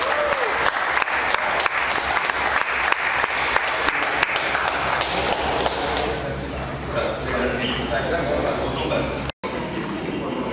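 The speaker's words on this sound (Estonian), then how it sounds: "Aplaus!" Dense applause from a crowd at a bench press competition, steady and loud, with voices mixed in, easing somewhat toward the end before a brief cut.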